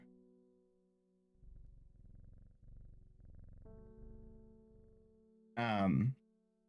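A cat purrs in the video game Strange Horticulture, a soft, low rumbling purr over gentle background music tones, followed by a short, louder sighing vocal sound near the end.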